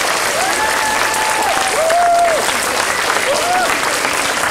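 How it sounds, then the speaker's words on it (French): A school audience at a French end-of-primary (CM2) ceremony claps steadily and warmly, dense applause throughout with a voice faintly heard over it. "je crois qu'on peut les applaudir et les remercier chaleureusement"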